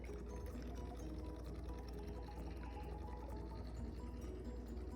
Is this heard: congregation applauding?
no